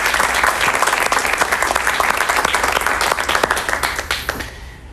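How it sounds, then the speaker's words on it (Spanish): Studio audience of a Spanish-language television talk show applauding for two invited Argentine psychics, with dense, steady clapping at close range that fades out near the end. "Un aplauso para ellos, por favor."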